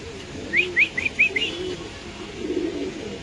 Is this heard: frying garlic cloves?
no